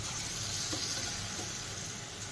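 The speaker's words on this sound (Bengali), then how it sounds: "এই দেখো এরকম ছোটো ছোটো করে তেলের মধ্যে দিয়ে দিলেই হয়ে যাবে।" Palm fruit fritter batter dropped into hot oil, a steady close hiss of frying that holds evenly throughout, with no talk.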